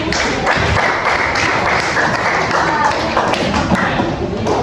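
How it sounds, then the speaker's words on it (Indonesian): Several people clap their hands together in a classroom after a student's closing remarks, a steady run of dense claps lasting throughout, with a faint murmur of voices beneath. "Tepuk tangan dulu, Mbak."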